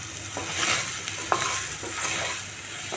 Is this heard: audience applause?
no